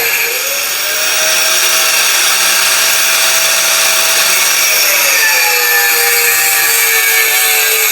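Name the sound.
grinder cutting rubber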